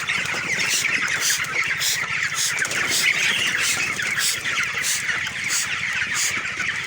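Poultry chickens with a cold, sprayed with a strong-smelling medicine in their shed, give off a busy chorus of squawks and clucks, repeated sharp calls over a constant flock murmur, close and fairly loud.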